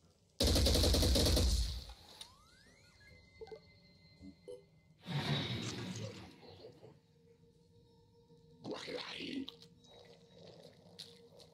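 Gunfire in the tactical video game Phoenix Point: a loud opening burst of automatic fire, then two more shorter volleys a few seconds apart, with faint mechanical game sounds between.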